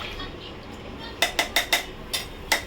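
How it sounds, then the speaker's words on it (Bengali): A utensil knocks against a pressure cooker pot of water for mutton curry, with about seven sharp metallic clinks in a quick rhythm, close, after a quiet stretch of background hiss. "একটু নেড়ে নেব।"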